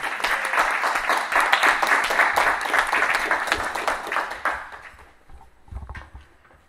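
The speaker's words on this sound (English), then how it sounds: "Let's give him another round of applause." Church congregation applauding after a sung performance, a dense sustained wash of clapping that fades out over the last couple of seconds, with a few scattered claps near the end.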